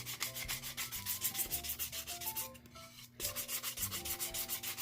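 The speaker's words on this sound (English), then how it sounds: "I'm just going to take my finger sander, and I have 220 grit sandpaper on here" Finger sander fitted with 220 grit sandpaper lightly sanding chipping milk paint off painted wood, a steady close rhythmic rubbing buzz with a short dip midway.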